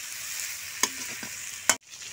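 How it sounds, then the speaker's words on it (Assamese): Food stirred in a kadai (wok) while broiler chicken cooks, with a low sizzle and two sharp scrapes of the spoon against the metal, the second followed by an abrupt stop. "লৰাই থাকিব যাতে ধৰি নাযায়, লাগি নাযায় যাতে কেৰাহীটোত"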